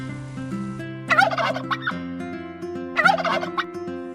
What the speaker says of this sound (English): Yes, it's a turkey.